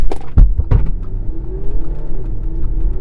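An Audi Q5 carrying three people and a full tank launches hard from a standstill, heard from inside the cabin as a couple of sharp knocks and then a low engine drone rising steadily in pitch.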